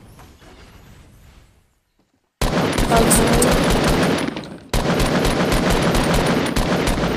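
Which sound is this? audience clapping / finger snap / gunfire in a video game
gunfire in a video game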